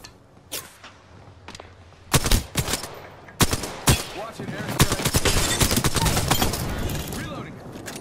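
Gunfire in the video game Apex Legends, scattered sharp shots giving way to sustained rapid automatic bursts and heavy impacts, loud and close, with a voice talking over the fight.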